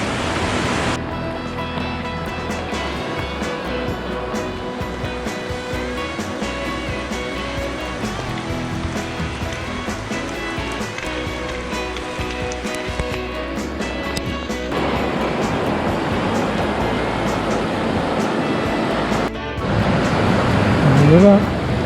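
A river running higher than usual rushes in a steady, broad roar close by along a hiking trail, continuous for the whole stretch and swelling louder near the end, with no talking.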